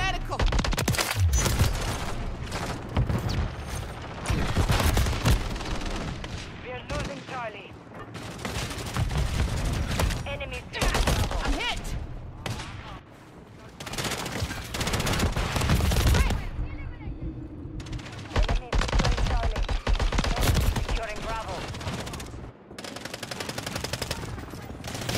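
Gunfire crackles in an online multiplayer match of Call of Duty: Modern Warfare 3. Loud bursts of automatic weapons and rapid fusillades come in repeated waves across the clip with brief lulls, under occasional talk.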